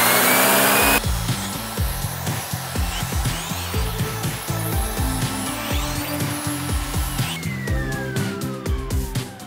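A loud, steady vacuum cleaner whine runs nearly the whole time on a couch, with a brief quieter stretch at the start and bumping, shifting tones as it moves over fabric.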